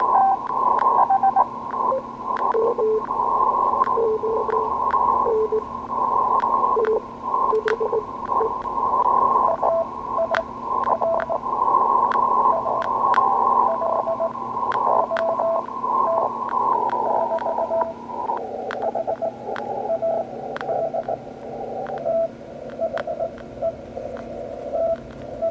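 Beeping CW Morse code tones on a radio receiver, keyed on and off in rapid on-off patterns over a steady radio hiss and hum, continuous for a long stretch without speech.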